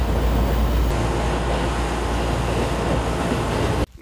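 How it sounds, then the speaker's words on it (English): Steady low rumble and rushing noise fill the inside of an air-conditioned train car in motion, continuous and loud throughout before cutting off abruptly near the end. "It's a nice air-conditioned train car."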